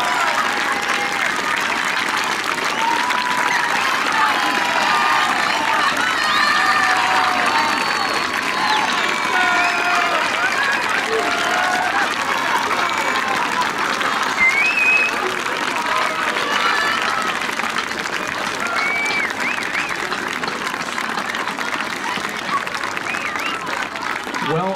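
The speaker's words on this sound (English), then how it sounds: "Can we have a big round of applause for our graduating class" A crowd at a middle school graduation in East Lyme, Connecticut applauds and cheers the graduating class, with loud sustained clapping, whoops and shouts filling the space for over twenty seconds.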